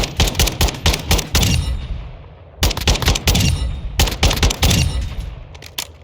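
Rapid single-fire gunshots from a rifle in Modern Warfare II, loud sharp reports in quick bursts separated by brief pauses, each shot trailing a short ringing decay.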